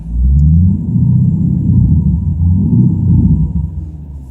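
A 2015 Chevrolet Camaro 2SS V8 engine revs with a loud, deep rumble, swelling and easing in a few repeated pulls, heard up close with no talking.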